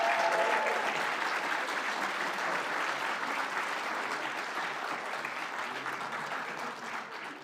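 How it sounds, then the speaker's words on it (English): A ceremony audience claps for graduating civic leadership fellows in Chicago, a continuous, even patter of many hands at moderate volume, slowly fading toward the end with no speech over it. "Let's have one more round of applause for these fellows."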